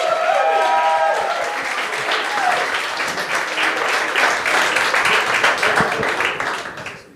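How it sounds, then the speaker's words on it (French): A comedy-show audience bursts into loud applause to welcome comedian Clémence Carton onstage, a dense wall of clapping with a few cheers that holds for several seconds and tapers off at the end. "accueillez-la avec un tonnerre d'applaudissements"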